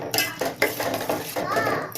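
Tomatoes being stirred and sautéed in a pan for Ambur chicken biryani, a spoon scraping and clinking against metal in quick strokes, close and fairly loud with faint frying sizzle.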